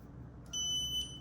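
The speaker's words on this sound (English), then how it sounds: "I'll put it on continuity mode, horseshoes for resistance. Make sure it beeps." A multimeter gives a single short, high-pitched electronic beep lasting about half a second, clear and close against faint background hum.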